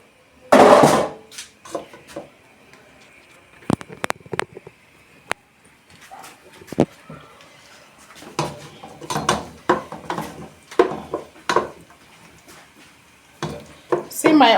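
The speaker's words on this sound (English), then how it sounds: "you know we stir the onions" Onions cooking in a heated pot are stirred with a utensil, producing scattered knocks and scrapes against the metal with brief pauses between them, loud and close over a faint sizzle.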